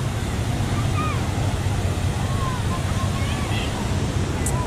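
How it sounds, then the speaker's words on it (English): Water in a wave pool at Universal's Volcano Bay water park laps and washes in a continuous, fairly close rush, with faint crowd chatter blended into the background. "Lapping around your ankles."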